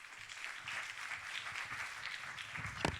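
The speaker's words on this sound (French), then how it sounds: "On peut l'applaudir." A conference audience applauds a guest speaker from the LPO, the clapping broad and steady at moderate distance for about three seconds and ending with one sharp, louder clap.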